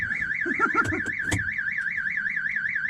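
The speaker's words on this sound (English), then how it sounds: "Alarm. I think that should let us in." A car alarm on a V6 Ferrari 288 GTO replica wails in a continuous warbling siren, with a few quick chirps and clunks near the start, loud and close.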